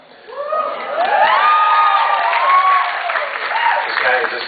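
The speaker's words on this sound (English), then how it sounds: "This is the applause for Castiel" A crowd at a convention fan panel applauding and cheering loudly and steadily, with whoops and shouts rising over sustained clapping.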